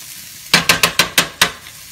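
Six quick wet strokes of a spoon mixing pesto into spaghetti squash in a pan over medium-low heat, evenly spaced and close, with a soft sizzle beneath and no talking.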